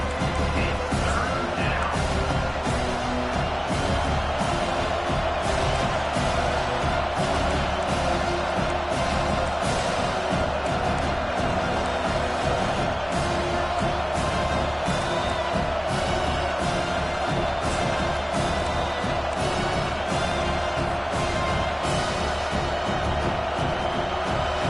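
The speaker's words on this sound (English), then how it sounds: "Decibels rising as the crowd gets behind this defense on 3rd down." College football stadium crowd at Alabama versus Miami, roaring on a third-down defensive stand: a dense, loud, sustained wall of cheering and yelling that keeps swelling and never drops off.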